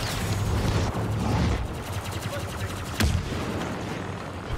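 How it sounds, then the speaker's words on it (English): Rapid blaster and gun fire from the Star Wars Battlefront 2 video game crackles continuously in dense bursts, with a sharper shot near the end, under a busy mix of in-game action. "Stop shooting."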